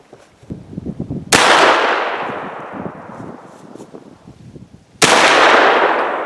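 Two loud, close rifle shots from 300 Blackout handloads with lead bullets over 13.6 grains of 1680 powder, each a sharp crack with a long decaying ring, spaced about four seconds apart amid faint background clatter.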